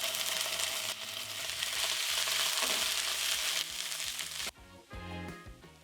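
Chopped onion and ginger garlic paste sizzle loudly in a pot of chickpea masala, a dense crackling fry broken by stirring scrapes, then the sizzle suddenly drops much quieter near the end.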